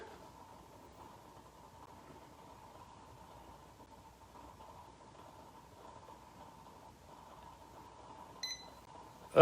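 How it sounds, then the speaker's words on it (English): An exercise interval timer gives a single short electronic beep near the end of a quiet stretch with a faint steady hum, followed by a sharp click. "I'm going to get the timer going"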